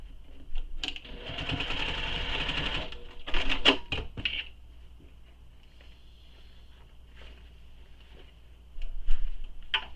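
A sewing machine bastes fabric in a few short bursts of rapid needle chatter, the first lasting a couple of seconds, then quieter gaps with light handling clicks before another burst near the end.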